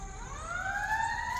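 A fire truck siren wails in a neighborhood, its rising tone sweeping steadily upward at a moderate distance, heard outdoors from behind a house with no voices over it.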